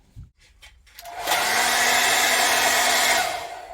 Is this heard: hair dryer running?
yes